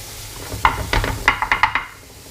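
Noodles with paste stirred in a frying pan on a stove, giving a run of about seven short scraping, sizzling strokes, close and fairly loud, in a quick uneven rhythm.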